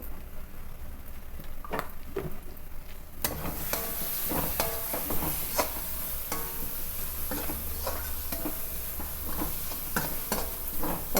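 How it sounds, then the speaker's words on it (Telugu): Crab curry masala with turmeric fries in a pan, a faint hiss that grows to a steady sizzle partway through, punctuated by repeated scraping and clicking stirs up close. "పచ్చివాసన పోయేలాగా ఫ్రై చేసుకుందాం"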